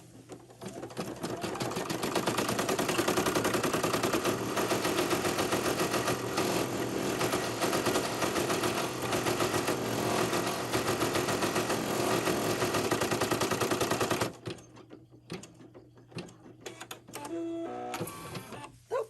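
An embroidery machine stitches hot pink thread into a leather key fob with a loud, steady, rapid mechanical whirring and needle clatter. After about fourteen seconds it slows into quieter, intermittent clicks. No one speaks.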